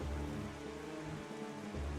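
Rain pours in the video game Zelda: Wind Waker, a dense, continuous hiss with low rumbling undertones and faint tonal game sounds layered beneath, filling the whole stretch without pause.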